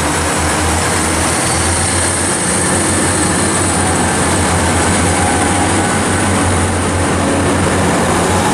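Train 4012 departing Lisburn toward Bangor: a loud, steady, close rumble of rolling stock and engine with a continuous broadband roar and no clear pauses for the whole span.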